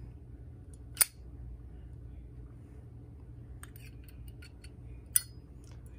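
A Zippo lighter lid clicks sharply twice, once open and once shut about four seconds apart, each a crisp close metallic snap above a low steady room hum.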